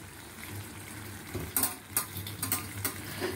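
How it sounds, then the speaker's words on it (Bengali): A spoon scrapes and taps against a pan while butter methi chicken curry with black pepper is stirred, giving several quiet clinks and scrapes over a faint sizzle, with no talking. "পুরো গোলমরিচটা দিয়ে আবার মিশিয়ে নেব"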